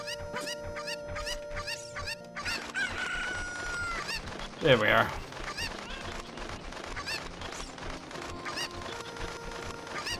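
Cucco chickens from The Legend of Zelda: Ocarina of Time squawk in game audio, with a louder burst of clucking near the middle over game music and someone talking briefly.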